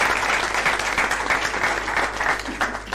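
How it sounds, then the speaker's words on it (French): A studio audience applauds in a dense, steady patter of clapping that rises and falls slightly and continues for a few seconds with no speech. "Est-ce qu'on peut applaudir pour ces chefs-d'œuvre?"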